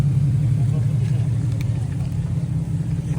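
The 377, a Japanese car fitted with an aftermarket exhaust, idles steadily after starting at a Japan Days car meet, giving a deep continuous rumble with a voice talking over it.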